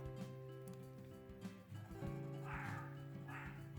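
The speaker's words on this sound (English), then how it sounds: "You can hear my dogs. They're barking." Several dogs bark, yip and whimper indoors in the distance, faint and intermittent throughout.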